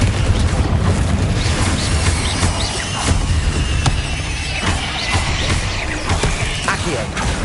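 Confringo fire-blast spell cast in Hogwarts Legacy, booming bursts sitting inside a dense, loud, continuous wash of combat noise, with a few sharper hits standing out.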